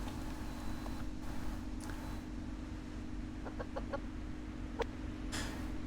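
A chicken clucks in a few short, sharp bursts near the middle and end, heard over a steady low mechanical hum.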